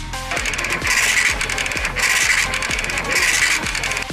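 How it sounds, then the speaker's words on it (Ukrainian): Dot matrix printer at work, a steady mechanical chatter of print-head strikes with repeated carriage sweeps and clicks, loud and close with no talk. "Але робота матричного принтера завжди супроводжується шумом."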